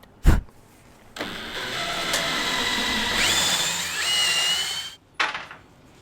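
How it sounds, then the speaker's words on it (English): A cordless power drill whirs steadily for several seconds to back screws out of a wooden platform inside a Mazda CX-5, with short clicks and knocks at the start and end and a brief change in pitch midway. "unscrew these screws so that we can cut down the top"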